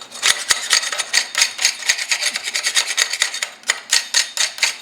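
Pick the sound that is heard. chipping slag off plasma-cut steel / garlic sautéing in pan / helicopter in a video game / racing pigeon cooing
chipping slag off plasma-cut steel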